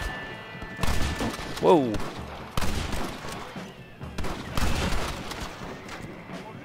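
Gunshots in Red Dead Redemption land as several sharp bursts spread across a short stretch, with someone speaking over the game sounds between the shots.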